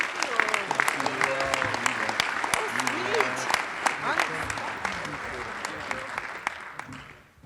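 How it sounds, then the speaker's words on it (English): Sustained audience applause at an association conference session, dense and steady with crowd voices mixed in beneath the clapping, gradually thinning and fading out at the end. "So let's give them another round of applause."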